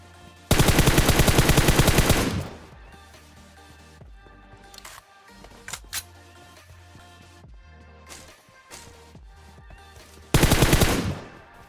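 Automatic gunfire shooting a bot in the mobile game PUBG Mobile: a loud rapid burst near the start, a few scattered single shots in the middle, then another sharp rapid burst near the end.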